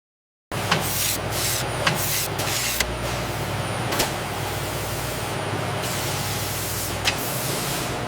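A cold water spray nozzle rinses a squab carcass in a poultry processing line, producing a steady, loud hissing spray that starts abruptly and runs without pause, with occasional brief louder bursts.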